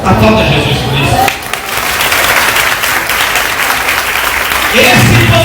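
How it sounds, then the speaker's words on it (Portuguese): Church congregation applauding during a sermon, a broad sustained clatter of many hands, loud and filling the room, briefly dipping midway while music and voices sit underneath at the start and end. "Aplauda Jesus por isso."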